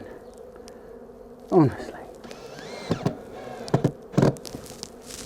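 Honeybees buzz around a hive being set up on a high-rise balcony, a soft insect hum under occasional close handling knocks and a few spoken words.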